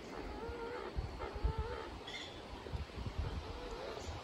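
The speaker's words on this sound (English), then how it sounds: "I can hear the birds. Those are beautiful sounding today." Birds call outdoors in a quiet fishing spot, with several brief chirps and squawks over a steady rustling background, moderately distant and heard without speech.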